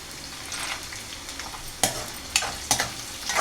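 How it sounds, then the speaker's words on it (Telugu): Peanuts and spices frying in a pan for raw mango pulihora, a steady crackling sizzle broken by a few sharp stirring clatters near the end, close and fairly loud with no talking. "ఇవన్నీ కూడా చక్కగా మనకి మంచిగా ఫ్రై అవ్వాలి"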